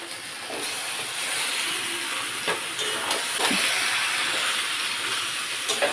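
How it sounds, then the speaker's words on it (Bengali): Kalbat chicken pieces sizzling in spiced oil in a pan for a chicken curry, a steady hiss with scattered crackles and pops, moderately close, no voices. "মশলা থেকে তেল ছেড়ে দিয়েছে এবার দিয়ে দেবো কালবাট মাংসটা"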